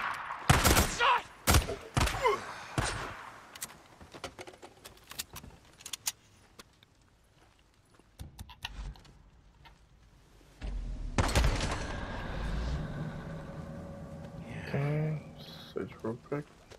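Gunfire in the video game Days Gone: scattered sharp shots and short bursts, some loud and close, separated by quieter gaps, with voices shouting over the action.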